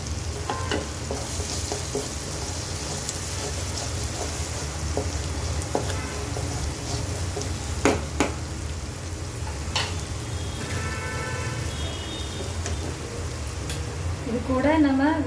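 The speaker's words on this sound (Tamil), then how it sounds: "அது கூட கொஞ்சமாக கரம் மசாலா, நல்லா மிக்ஸ் பண்ணிடுவோம்." Garam masala and turmeric are stirred into a frying rawa snack mix in a pan, with a constant sizzle and occasional scraping stirs close by, while a person talks over it.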